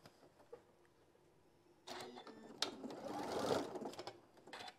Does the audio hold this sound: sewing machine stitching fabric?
yes